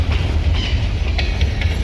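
A freight train rolls steadily past close by, a continuous heavy rumble of wheels on rails with faint rhythmic clatter and no pauses, no voices.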